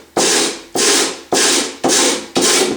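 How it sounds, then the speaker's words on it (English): A wooden harp is sanded by hand with coarse 50 or 60 grit sandpaper, five even, raspy strokes in a regular rhythm, close and clear, with no talk. "You can take some 50 or 60 grit sandpaper"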